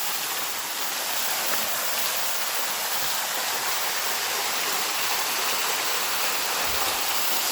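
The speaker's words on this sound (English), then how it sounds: "right here around the waterfall" Waterfall on Chamberlain Creek in a redwood grove of Jackson State Forest, a loud, unbroken rush of falling water heard close up with no voices.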